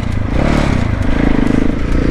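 A new motorcycle rides off on the road, its engine a loud, close, rumbling drone with rapid firing pulses that hold steady throughout, a voice faintly present underneath.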